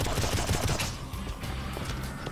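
Rapid gunfire from a weapon in the shooter game Painkiller, a dense burst of loud overlapping shots for about a second that then falls away into quieter rumbling and scattered hits.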